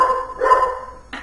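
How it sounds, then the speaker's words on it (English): Dogs bark indoors at home, two or three short, moderately loud barks in quick succession, heard alone without talk. "we're shooting at home, so those are the dogs"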